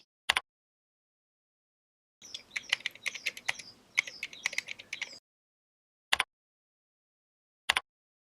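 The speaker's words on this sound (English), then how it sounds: "Click on Criterion and type in your first criterion." Typing on a computer keyboard, a quick run of light clicking keystrokes lasting about three seconds, framed by a few isolated sharp mouse-like clicks in otherwise silent surroundings.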